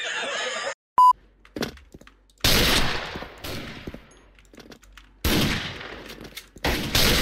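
Gunfire in the online shooter Special Force, with bursts of loud shots separated by pauses, a short beep early on, and a voice talking between the volleys.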